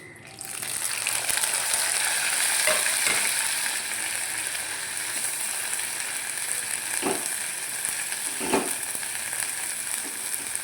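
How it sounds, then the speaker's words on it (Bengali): Ground bottle gourd leaf paste drops into hot oil tempered with nigella seeds and dried chili, setting off a bright, steady sizzle with a few soft stirring knocks and scrapes along the way. "এবার আমি এই ফোড়নের মধ্যে বাটাটা দিয়ে দেবো"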